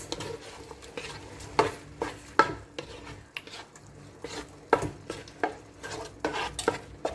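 Garlic and onion stirred in a pan for pork green curry: repeated scraping and clattering strokes of a utensil against the pan over a soft sizzle, fairly close, with no talking.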